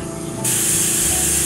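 Paint sprayed through a whisk broom onto a river backdrop, a sudden loud, close hiss that cuts in and holds steady to the end.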